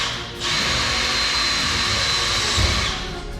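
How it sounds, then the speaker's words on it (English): A power drill bores a hole through the front of a camper trailer's tongue box, a steady loud whine running about three seconds before stopping, with no voices. "to power the diesel heater, I had to drill a hole through the front of the tongue box"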